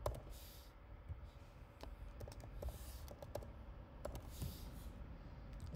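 A password entered on a computer keyboard, with a quick irregular patter of key clicks close by at moderate volume and no voices over it.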